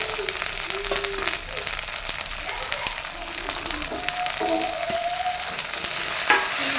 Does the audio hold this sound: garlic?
yes